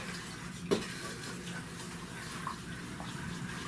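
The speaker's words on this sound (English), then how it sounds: "I'm just going to mix in the sugar. Stir that around until it's dissolved." Sugar being stirred into melted butter in a pot, heard as faint, soft scraping with one distinct clink of the utensil against the pot, under a steady low hum.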